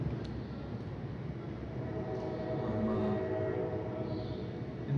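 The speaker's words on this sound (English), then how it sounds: "There's a train going by." Train passing at night near a parking garage, a steady low rumble with faint tonal hum swelling slightly toward the middle, heard at a distance with no voices.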